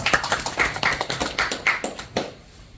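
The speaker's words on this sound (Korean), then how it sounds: "박수 모시겠습니다" A small audience at a labor union forum claps to welcome a panel speaker, a brief sparse run of distinct claps that thins out and stops.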